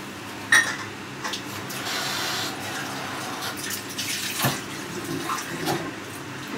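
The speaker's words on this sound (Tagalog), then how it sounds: "Dagdagan ko lang siya ng konti pang tubig kasi hindi pa siya gaanong lambot." Water pours into a pot of simmering mung beans, a steady close splashing and running flow with a few louder bursts, no talk over it.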